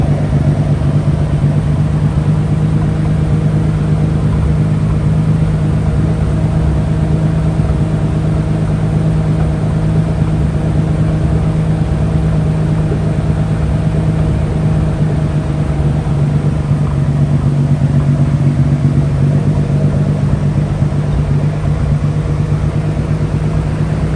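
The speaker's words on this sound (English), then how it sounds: "So it's been idling now for a little bit, maybe like 15 minutes" A Nissan 300ZX with running problems idles steadily for a long stretch, its low, even engine hum and rumble staying constant and close with no revving.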